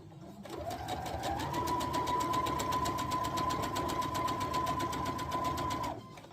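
A sewing machine stitches a jelly roll quilt seam in one continuous, steady whirring run of about five seconds, close and even, with no talking.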